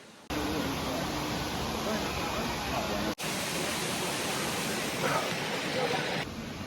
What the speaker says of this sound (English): we found another massive waterfall over there